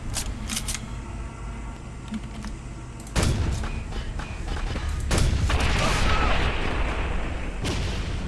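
Rapid bursts of gunfire in the video game Quake 4, aimed at doors in trenches, sharp cracks and booms repeating over a dense, noisy background rumble.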